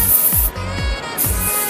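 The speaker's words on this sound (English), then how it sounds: "Do a bit of spray paint on the back." A spray paint can hisses red paint onto the back of a luxury car in loud, close bursts, first a long spray and then another after a short pause, with no talking.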